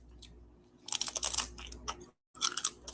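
Close, crisp crunching and chewing of a blue raspberry fruit roll-up filled with strawberry ice cream, a rapid run of bites with a brief silent gap before another crunchy burst.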